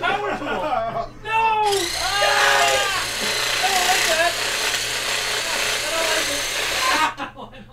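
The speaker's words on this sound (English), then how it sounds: "it's a massager. No, it isn't. It's a power tool." A handheld power tool used as a massager buzzes in a loud, steady drone for about five seconds, with people shouting and yelping over it before it cuts off.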